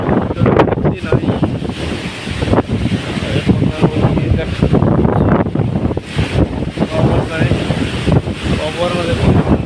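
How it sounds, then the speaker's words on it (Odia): Strong, roaring gusts from Cyclone Dana at Dhamra buffet the microphone continuously with heavy rumble, and someone talks over the wind throughout. "ପବନ ଦେଖୁଛନ୍ତି କେତେ ଜୋରେ ହେଉଛି"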